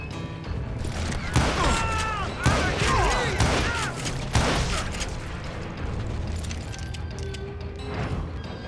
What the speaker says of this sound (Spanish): Muchas explosiones.